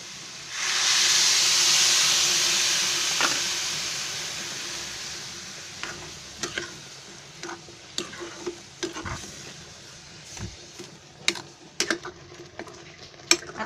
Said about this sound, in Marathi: आता त्याच्यामध्ये दूध ओतते।